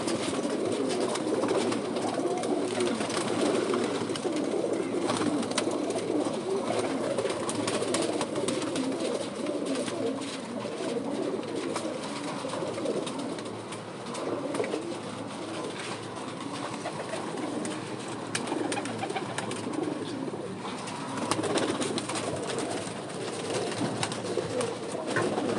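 Pigeons coo continuously in a dense, overlapping chorus, with faint background hum and no talking.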